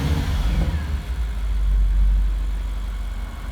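Audi RS7 engine idling just after a remote start through a Pandora alarm, a steady low rumble with a brief swell in the middle, close and even throughout.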